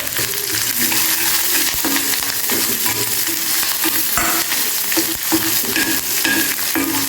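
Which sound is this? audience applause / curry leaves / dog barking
curry leaves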